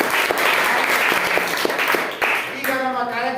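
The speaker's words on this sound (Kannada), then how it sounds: "ಓಕೆ, ಜೋರ ಚಪ್ಪಾಳೆ." Loud applause from a room of schoolchildren at a classroom quiz event, steady dense clapping that fades as a voice begins speaking near the end.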